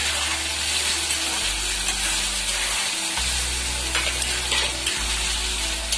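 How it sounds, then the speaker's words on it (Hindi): Chopped tomatoes hitting hot oil with garlic in a pan, a loud, close, continuous sizzle with stirring scrapes over a low steady hum. "बस अब इसमें ये जो कटे हुए टमाटर थे ये डाल देंगे।"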